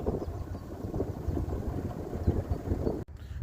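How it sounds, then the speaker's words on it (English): Wind gusting outdoors beside a canal at a mooring on a warm, sunny day, a steady rumbling buffet against the microphone that continues for several seconds before a brief dip near the end. "You can obviously hear the wind blowing."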